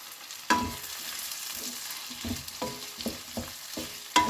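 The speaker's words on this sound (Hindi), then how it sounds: "अब इसमें मैं डाल दूंगी चॉप टमाटो और चॉप्ड ग्रीन चिली" Chopped tomato and green chili fry in an onion, ginger and garlic masala for kadai paneer, giving a steady soft sizzle and occasional sharp clinks and scrapes of a spoon against the kadai. No one speaks.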